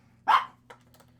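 One sharp dog bark rings out close in an indoor room, followed by a few faint, short yelps or clicks, all over a low steady hum.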